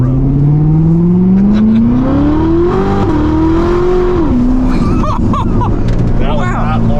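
A C8 Corvette sports car accelerating hard, its loud engine note rising steadily in pitch through the gears, close and continuous, with brief voices near the end.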